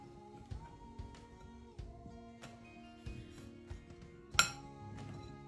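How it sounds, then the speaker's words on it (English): Vegan mini tart ingredients are stirred in a bowl, with light, scattered clinks and taps of a utensil against the dish and one sharper ring near the end, quiet and close. "I will go ahead and stir all the ingredients right now."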